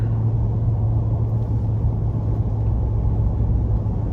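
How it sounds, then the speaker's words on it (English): Steady, loud tire and road roar inside a 2023 Nissan Titan PRO-4X pickup with a 5.6 engine on General Grabber tires, cruising down an interstate; a constant low rumble with no talking. "that was a really nice sound from the tires"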